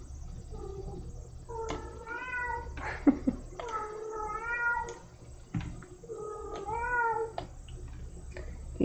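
A pet cat gives loud, drawn-out, wailing meows in three repeated bursts over a low steady room hum, close to the mic.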